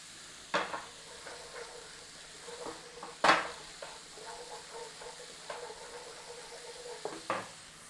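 Garlic sizzling in hot oil in a pan over a gas flame while cooking a chicken rogan josh curry, a soft steady fry broken by a few sharp clanks of a spoon stirring against the pan.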